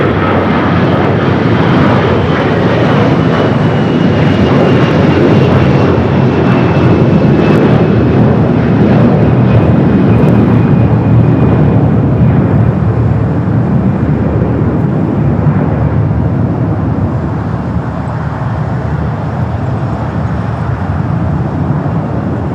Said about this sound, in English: Next takeoff, American Flight 1024 heading to Orlando, Florida.